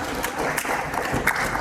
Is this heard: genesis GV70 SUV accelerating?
no